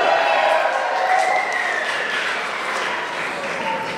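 A Washington, D.C. crowd applauds at a speech, a dense, loud wash of clapping and faint cheering that gradually thins out over a few seconds.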